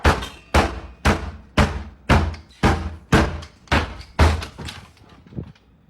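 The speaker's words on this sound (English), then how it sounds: "Here's how the cord could open the door." A closet door pulled open by a cord, a loud series of about ten sharp thumping knocks at a steady pace, each with a short ringing decay, close and without voices.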